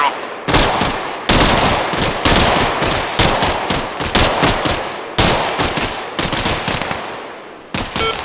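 Gunfire in the military video game ARMA Reforger: loud, close bursts of rapid automatic fire in repeated volleys with brief pauses between them, each burst trailing off in echo, with a short gap near the end.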